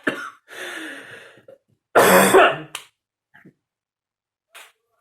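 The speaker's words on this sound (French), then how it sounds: "si on arrivait à respirer pendant qu'on tousse, je crois que ça irait mieux" A harsh, throaty cough bursts out loudly, followed by a couple of faint short throat sounds and a brief click.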